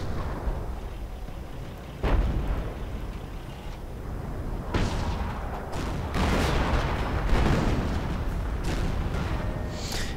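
Heavy artillery from Hummel self-propelled guns pounds away in a video game battle, with several deep booms and blasts landing at irregular intervals over a rumbling, crackling backdrop of distant fire.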